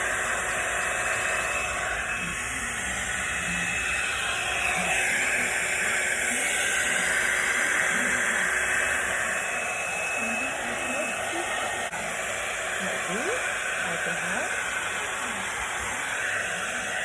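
A hair dryer blows steadily in a broad, continuous rush of air noise, used alongside a comb-brush attachment, with a faint voice murmuring underneath.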